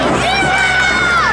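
A crowd at a live wrestling title match roars and cheers loudly in one sustained burst, with shouts rising above the mass of voices.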